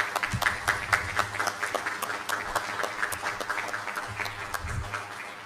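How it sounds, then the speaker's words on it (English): Applause from a crowd at a school district board meeting, dense overlapping claps with a few louder hits, steady throughout. "I just wanted everybody to give you all a round of applause"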